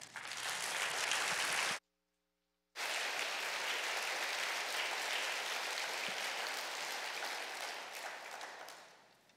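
A congregation at a Korean church's Sunday service applauds to welcome a preacher to the pulpit. The dense, full applause is cut off by a brief total silence, then resumes as a long sustained burst that tapers off at the end.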